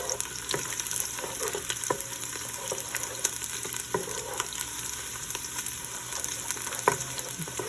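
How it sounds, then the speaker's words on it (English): Garlic sautés in a pan for an okra beef stew, making an even, close frying hiss with scattered crackles and light stirring taps throughout. "So I'm gonna saute until light golden brown."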